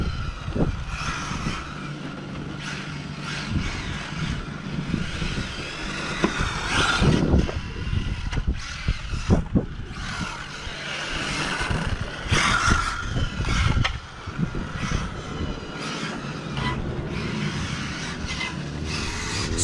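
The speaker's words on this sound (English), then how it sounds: "the Infraction I was getting full throttle in here on 6S" An Arrma Infraction RC car on 6S power tears along at full throttle, its high electric motor whine surging and fading with skids and bursts of speed over about twenty seconds, continuous and fairly close.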